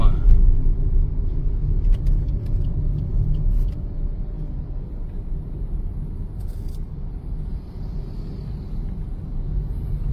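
Low, steady road rumble fills the interior of a moving car on a drive toward Bogor, with occasional faint clicks and handling noises from a handheld phone, while speech is heard over it.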